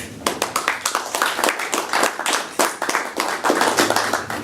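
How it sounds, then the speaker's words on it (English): Applause from an audience at an EFF-Austin panel event on privacy, a dense wash of many hands clapping steadily at moderate loudness through the whole stretch, with no talking over it. "Let's see if I deserve that applause."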